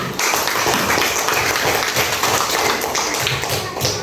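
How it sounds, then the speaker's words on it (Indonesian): A classroom of children claps during an Indonesian school lesson on energy sources, giving a close, loud, busy patter of many hands that keeps going without pause. "Tepuk tangan untuk Yara"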